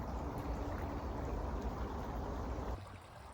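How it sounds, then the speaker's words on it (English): Gentle, steady rush of flowing water in Nordic wilderness, soft and constant, fading slightly near the end. "just the wind in the trees and the sound of the water"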